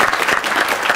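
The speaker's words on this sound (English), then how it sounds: "Give Yvonne a round of applause." Studio audience at a televised debate applauds, a brief dense burst of clapping heard alone.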